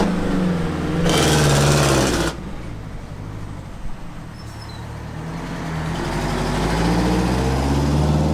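A 1966 Seagrave Tiller fire truck engine runs close by with a heavy, steady rumble, swelling into a louder burst early on, then settling and slowly building again.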